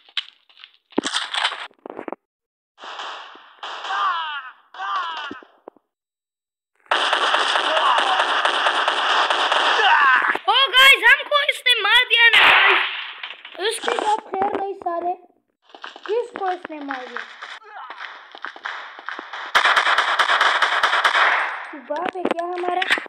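Sharp gunshot bursts and metallic clangs in an online shooter game come in irregular clusters separated by silent gaps, with excited talking over and between the firing.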